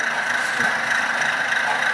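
A steady mechanical hum and rattle from an HO scale model Baldwin diesel locomotive with sound, running continuously at close range with no talk.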